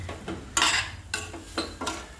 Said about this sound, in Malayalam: എല്ലാം കൂടെ ഇട്ട് നന്നായിട്ട് ഇളക്കണം.